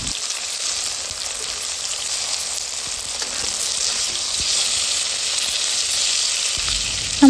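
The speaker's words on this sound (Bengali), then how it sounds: "টমেটো আমরা সেদ্ধ হওয়া পর্যন্ত এপাশ ওপাশ করে ভেজে নেব।" Tomatoes sizzle steadily in a frying pan as they are turned over until softened for a village-style bharta, a continuous close hiss with faint stirring and a brief knock at the end.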